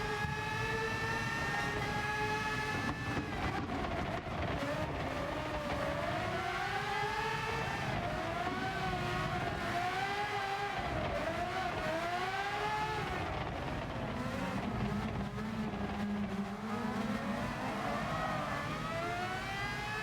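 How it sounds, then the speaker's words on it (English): High-pitched V12 race car engines scream and rev continuously in Gran Turismo Sport racing, with rising and falling pitch sweeps as several cars run close together in a pack. "these cars are running V12 engines apparently, so yeah, they will have that high-pitched squeak"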